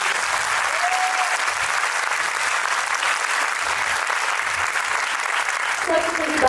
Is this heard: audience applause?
yes